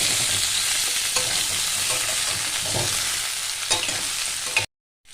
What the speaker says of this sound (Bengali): এবার এইটা 2-3 মিনিট নাড়িয়ে চাড়িয়ে নিতে হবে, মিডিয়াম ফ্লেমে রাখতে হবে